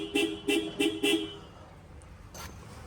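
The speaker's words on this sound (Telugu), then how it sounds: "సో హారన్ చూడండి" Car horn tooted four times in quick, evenly spaced short beeps, then a fifth faint beep after a pause, heard close in an otherwise quiet setting.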